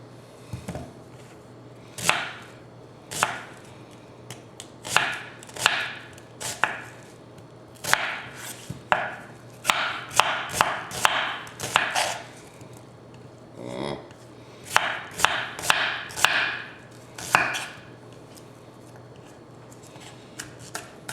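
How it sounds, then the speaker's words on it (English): Knife chopping vegetables for meatloaf on a cutting board, a series of sharp, close, irregular chops in quick bursts with pauses between. "while we're chopping these vegetables up"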